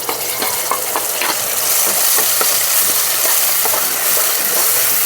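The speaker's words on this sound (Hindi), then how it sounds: "अब हम इसमें सारा घोल मसाला का डाल के अच्छे से पका लेंगे।" Masala paste for Banarasi kachori frying in a pan, a loud continuous sizzle with repeated spoon scrapes and stirring knocks close up.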